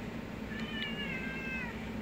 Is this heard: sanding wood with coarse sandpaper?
no